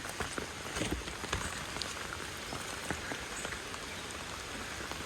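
Rain falls steadily on a muddy lakeside area, a soft continuous patter of drops, fairly faint and without any voices.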